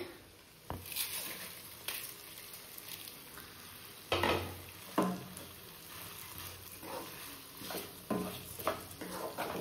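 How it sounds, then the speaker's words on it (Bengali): Rice frying with soybean and spices in a pan, a quiet continuous sizzle punctuated by repeated scraping stirs and spoon clinks against the pan. "আর দেখো ভালো করে মশলার সাথে ফ্রাই করে নিয়েছি"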